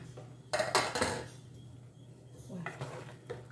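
Metal lid of a pressure cooker clatters and scrapes as it is opened after the steam has gone, a couple of close clanks followed by lighter rattling in a quiet home kitchen, with jackfruit pieces cooked inside.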